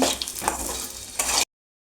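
Peanuts and onions fry in hot oil for a tamarind pachadi, a steady close sizzle with stirring scrapes running about one and a half seconds before cutting to silence.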